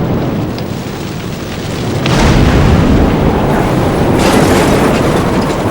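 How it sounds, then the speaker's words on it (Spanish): A documentary asteroid impact rings out as a deep, loud boom and shock wave, then swells into a heavy, roaring rumble that grows louder and closer and keeps going. "Es la onda expansiva. ¡Bum! Y a continuación le sigue un estruendo que se aproxima."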